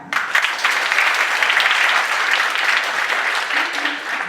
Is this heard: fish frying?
no